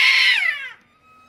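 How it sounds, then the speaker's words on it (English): A loud, close cat yowl from a caterwauling pair up in treetops in a French village, drawn out and falling in pitch before fading to near silence, with no talking. "We're about to witness some cat theatrics,"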